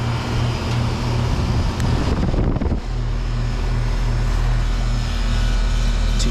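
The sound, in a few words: 2011 Luxaire LX heat pump with Bristol reciprocating compressor, heat mode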